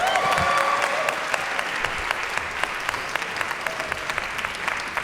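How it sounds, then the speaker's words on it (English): Audience applause for an alto saxophonist and clarinetist at a university jazz orchestra Christmas concert, a steady, dense patter of many hands clapping, moderately loud and sustained throughout. "That's the bit where you're supposed to applaud her."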